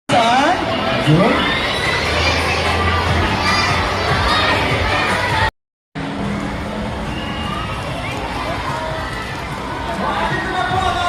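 Children shout and cheer "yay" at Mayor Susan Yap's arrival during a school kit bag distribution, a loud, continuous crowd roar close by that breaks off for a moment, then resumes.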